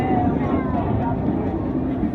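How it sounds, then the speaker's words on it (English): An L39 jet aircraft roars low and continuously while passing at an air show, with an announcer's voice heard over it. "Next, Ron Pucker Staley in his L39"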